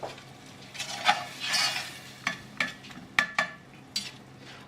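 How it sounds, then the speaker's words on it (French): Veal sauté is stirred in a pan, with a spoon scraping and clinking against the metal in irregular strokes over a light sizzle. "On mélange ça tout bien ensemble"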